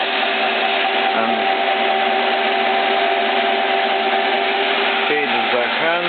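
A 6T10 milling machine cutting metal at 560 RPM with a standard cutting tool on a rotary table makes a loud, steady mechanical whir and grind, its pitch briefly shifting near the end.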